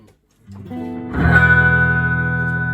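A 1950s Gibson Switchmaster electric guitar on its neck pickup rings out with a warm tone, a few plucked notes followed by a strummed chord that sustains clearly and alone.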